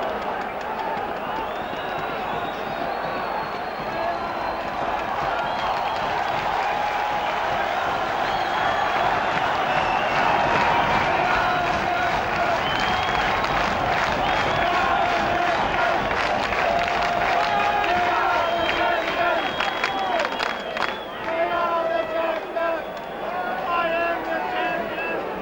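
Stadium crowd roaring and cheering for a rugby conversion kick sailing between the uprights in an Auckland versus Australia match, a sustained loud wall of noise with a commentator talking over it.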